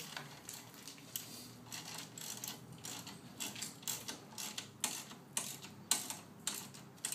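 A ratchet tightens a 15mm bolt during a Pitbull Powersports install near a motorcycle trunk, giving a steady run of quick metallic clicks in repeated bursts over about seven seconds, close and fairly quiet.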